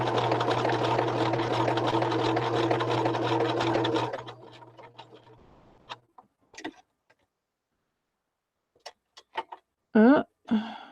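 A domestic sewing machine runs in a steady, loud mechanical hum for about four seconds, then winds down and stops. A few isolated clicks, small handling knocks and brief faint sounds follow in near silence.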